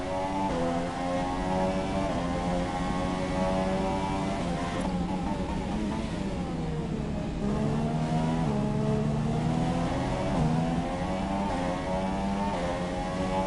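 Racing car engine in the F1 2017 game, a Red Bull on ultra soft tyres at Spa for the Belgian GP, revving loudly and steadily with rising and falling pitch through gear changes, close and continuous with no talk.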